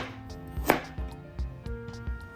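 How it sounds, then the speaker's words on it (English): Galangal sliced with a knife on a cutting board, about six distinct close chops in an uneven rhythm, each a dull knock, over a faint background hum. "And then slice 15-gram galangal."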